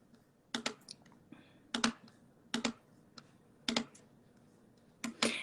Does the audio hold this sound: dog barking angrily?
no